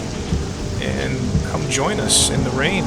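Rain and thunder from the Assetto Corsa racing game form a steady, loud wash of rainfall with rumbling thunder, while a voice talks over it throughout.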